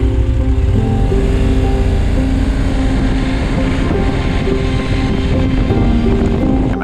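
A motorcycle low on fuel on an Alaska road runs with a steady engine drone, heavily mixed with loud wind buffeting the microphone, holding an even level from start to finish.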